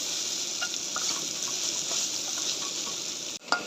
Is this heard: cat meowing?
no